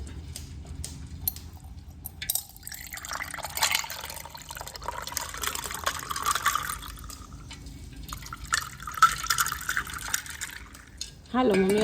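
Sharbat poured into a half-filled glass with ice at home: a steady trickle and gurgle of liquid continues under women chatting, ending with a brief louder splash.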